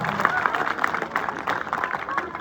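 Audience applause at a school annual day result announcement: a steady wash of many hands clapping for about two seconds, moderately loud, with some voices mixed in.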